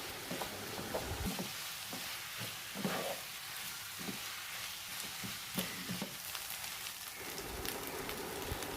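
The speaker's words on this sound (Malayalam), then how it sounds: "ഈ കറിവേപ്പിലയും കൂടി ഇതിലേക്ക് ഇട്ടിട്ട് നന്നായിട്ട് എല്ലാം കൂട്ടിയിട്ടൊന്ന് ഇളക്കി കൊടുക്കും" Garlic and curry leaves sautéing in a pan for a minced-meat biryani, a soft continuous sizzle with occasional stirring scrapes, quiet and close, no voices.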